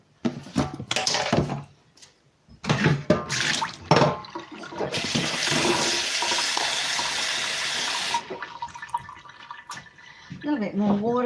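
Water from a tap runs steadily as turmeric roots are rinsed under it, a few seconds of close splashing flow between clattering handling noises and a voice speaking.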